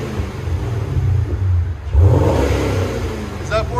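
A Chevy Camaro SS with a 6.2L V8 and aftermarket exhaust revving up briefly from idle, a deep rumble that swells into a rising roar, close by.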